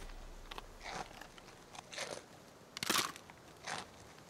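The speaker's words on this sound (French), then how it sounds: "Maud a raison, ils sont croustillants!" Crisp crunches of someone biting into crispy apple cookies in an animated scene, about five separate sharp crackling bites spaced through a quiet background.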